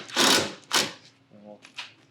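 Cordless drill driving a screw through a shelf bracket into a pre-drilled wall stud for a reclaimed wood floating shelf: two loud whirring bursts close up, then a short lower buzz and a brief final burst.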